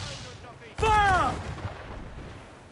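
Ship cannons boom in the Assassin's Creed Black Flag video game, one loud sudden blast that rolls off, with shouted voices before and after.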